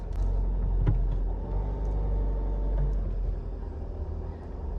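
Car interior while driving on the way to work, with a steady low road rumble and engine drone throughout and a few faint clicks and knocks, no talking.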